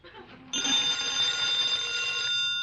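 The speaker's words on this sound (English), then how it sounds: "Answer the phone." An old-time telephone bell rings in a 1949 NBC radio comedy with Dean Martin and Jerry Lewis, starting with a sharp onset and sounding as one sustained, loud metallic ring after a brief lead-in.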